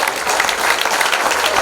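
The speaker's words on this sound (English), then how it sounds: "I want you to give him a big round of applause" Audience at a formal presentation giving a big round of applause, dense steady clapping from many hands filling the room, loud and continuous with no talk over it.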